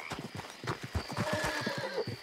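A horse in Red Dead Redemption II trots up with rapid clip-clopping hooves, close and rhythmic, followed by a whinny late in the moment, while a voice talks quietly underneath.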